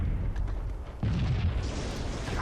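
A slow fuel rod cannon shot in a Halo multiplayer match bursts into a deep, loud explosion, a heavy boom that rises abruptly midway through a dense rumble of battle noise.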